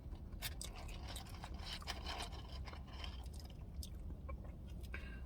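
Close, quiet chewing of fries dipped in jalapeno ranch from Whataburger, with soft crunchy bites and wet, squishy mouth sounds repeating steadily throughout, no talking.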